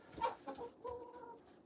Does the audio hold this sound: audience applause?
no